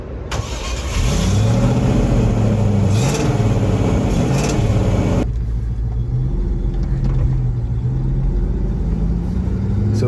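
A classic Range Rover engine starts with a churning crank, then catches and settles into a steady, loud idle with a low rumble that continues to the end.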